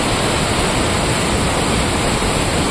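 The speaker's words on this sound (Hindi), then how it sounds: "थोड़ी देर मैं यहाँ पर बैठ के एंजॉय करता हूँ इस वाटरफॉल को" Loud, steady roar of a glacier-fed waterfall on the Hampta Pass trek, a dense unbroken rush of falling water heard up close with no other sounds.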